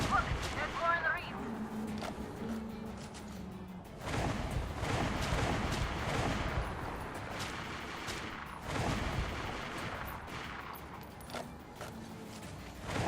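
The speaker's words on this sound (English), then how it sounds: "We are shooting and there's some gunfire." Gunfire rings out in the video game Metro: Last Light: bursts of booming shots and rumbling blasts that recur throughout, with a voice talking over them.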